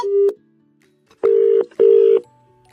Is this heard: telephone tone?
yes